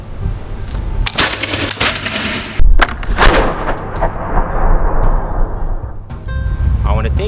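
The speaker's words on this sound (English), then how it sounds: "firing a Charleville musket here at Sutter's Fort State Historic Park" A Charleville flintlock musket fires at Sutter's Fort State Historic Park, a sharp, very loud report with a rolling echo. Before the shot come a voice and clicks from the lock, and after it talking continues.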